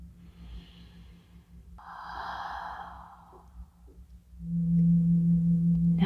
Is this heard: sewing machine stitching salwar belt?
no